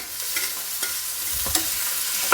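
Tomato, chillies and onion frying in a pan for Kolhapuri thecha, a steady close hiss of sizzling broken by a few faint scrapes and taps of a stirring spoon, with no voices.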